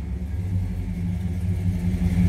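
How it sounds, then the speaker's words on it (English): A 1954 Ford F100 pickup street rod's engine idles and rumbles steadily and fairly loudly, a deep low throb with no talk over it. "I'm going to go ahead and start this up here."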